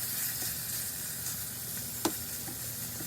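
Bacon strips sizzle and crackle in a hot frying pan for cheese fries as they are pushed and spread out, a steady bright hiss with one sharp scrape or clack of the utensil partway through.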